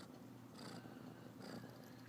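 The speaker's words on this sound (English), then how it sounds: "And she's purring. You can hear her." A domestic cat purrs close by, a low steady rhythmic rumble with faint pulsing breaths, quiet and alone.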